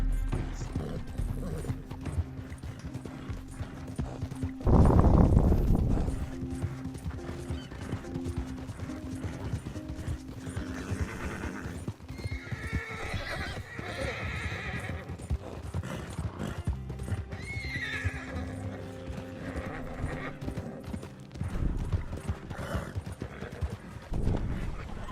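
A horse in the Red Dead Redemption 2 video game clip-clops along under a steady bed of game music and ambience, with a louder burst near the start and faint mechanical clicks, moderately distant.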